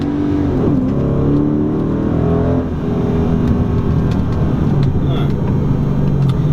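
A Dodge Challenger R/T accelerates hard in first gear, its engine a loud, close, deep roar with rising pitch heard from inside the car, continuous throughout.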